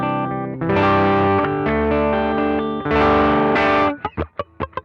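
An electric guitar plays sustained chords through a BOSS FBM-1 '59 Bassman pedal modeled on the Fender Bassman amp, giving a warm, thick distortion, then ends with a run of short choppy muted strums.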